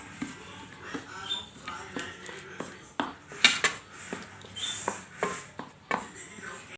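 A spoon knocks and scrapes in a small bowl while homemade face pack ingredients are mixed, giving a series of sharp clinks in an uneven rhythm, with someone talking quietly now and then.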